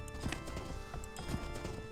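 Horse hooves clip-clop in Age of Empires II as a mounted scout rides across the land. The steady, moderately quiet hoofbeats play over a soft, tonal game background.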